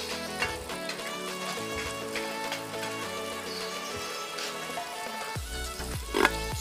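Ginger sautéing in butter gives a steady sizzle under background music with sustained tones, with a few louder clatters near the end.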